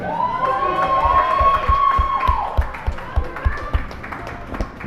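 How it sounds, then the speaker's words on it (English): A crowd at a ring-side fight event cheers and whistles loudly as two fighters enter the ring, with a sustained roar, scattered claps and shouts that gradually thin out toward the end. "I really like to hear that support and all, the crowd really getting into this."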